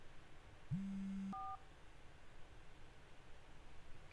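A short burst of electronic cell phone dialing tones in the video game Three Fourths Home: a steady tone, then two quick beeps, over a faint hiss with no talking.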